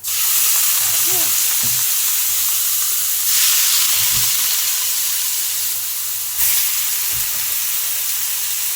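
Ginger sizzles and fries steadily in a hot pan, a continuous close hiss with occasional stirring bursts and brief faint voices.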